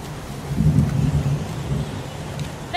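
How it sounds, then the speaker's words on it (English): Steady rain pours down in the video game Heavy Rain, with a broad low rumble swelling in the middle and then easing off. No voices are heard over it. "It's pouring rain."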